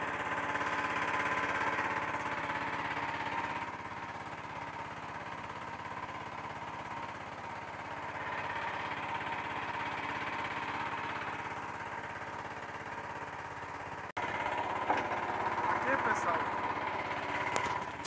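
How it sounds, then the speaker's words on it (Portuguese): A boat motor runs steadily on the Pacaás Novos river in Rondônia, a continuous mid-level engine drone that dips and swells slightly, with a brief break near the end. "nosso motor ali."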